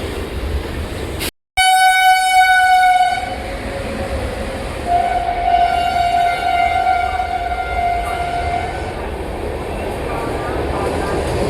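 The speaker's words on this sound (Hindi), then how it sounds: "विजयवाड़ा WAP 7 के साथ प्लेटफॉर्म नंबर 1 पर अराइव की है।" A WAP 7 electric locomotive draws an express train into platform 1 at an Indian railway station, sounding a loud two-tone horn blast, then a longer horn note over a steady rolling rumble of the carriages.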